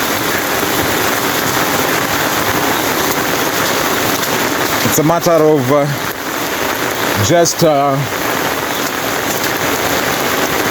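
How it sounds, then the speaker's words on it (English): Heavy rain pouring down in Mombasa, a dense, loud, constant hiss of drops on surfaces throughout, with a voice speaking briefly twice partway through. "Raining so much."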